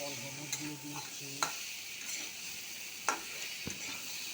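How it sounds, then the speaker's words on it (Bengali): Spice paste frying in a pan while being stirred, a low sizzle with a few sharp spatula clinks against the metal, fairly faint, with a soft melodic tone in the background. "মশলাটা ভালো করে কষিয়ে নেবো"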